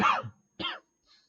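Two close coughs during a lecture, a sharp burst followed by a second shorter one, with a faint trailing breath after.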